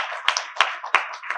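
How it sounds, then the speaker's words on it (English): At a symposium, a few audience members clap in a sparse round of applause, several distinct claps spaced irregularly over a second and a half, fairly close and moderately loud. "Please a round of applause."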